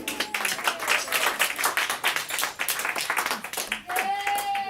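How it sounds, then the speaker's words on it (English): A comedy show audience clapping in a sustained rhythmic patter of hand claps, fairly close, while a host talks over it. "You gotta keep clapping."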